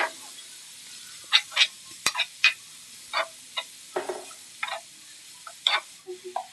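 Onions sautéing in a pan for a chicken samosa filling, with a steady faint sizzle and a series of scraping, stirring strokes spaced irregularly, close and fairly quiet, with no talking.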